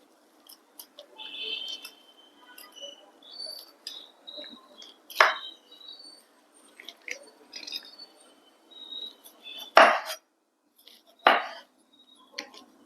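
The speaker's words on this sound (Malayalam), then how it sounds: "ഇതിൻ്റെ ഉള്ളിലെ ഈ മൂത്ത കുരുവെല്ലാം നമ്മളിങ്ങനെ ഒരു സ്കൂപ്പർ വെച്ച് ഇങ്ങനെ എടുത്ത് കളയാം" A metal scooper scrapes mature seeds out of a halved bitter gourd in a kitchen, giving intermittent close scratching and clicking strokes with a few sharper knocks, with no talk over it.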